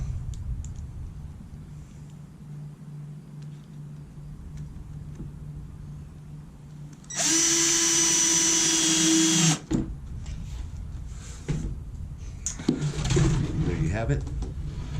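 A power drill drives self-tapping screws into an ice chest, one loud whirring burst of a couple of seconds in the middle, then a shorter second run, with someone talking before and after.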